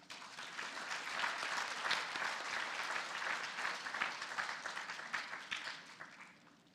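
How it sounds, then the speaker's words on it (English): An audience at an FFA banquet applauds the graduating seniors, a long swell of dense clapping that rises, holds, and tapers off toward the end. "Please give our seniors a round of applause."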